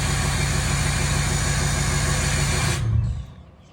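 A Ford Ranger engine idles with a steady, loud, low rumble up close, then is switched off, the sound dropping away into near quiet at the end.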